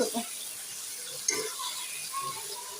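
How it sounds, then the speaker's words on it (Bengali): Green banana pieces are sautéed in a pan for a curry, making a faint, soft sizzle with light stirring scrapes and a brief utensil clink partway through. "মাছ ভেজে রেখেছি কলা কষিয়ে নিচ্ছি"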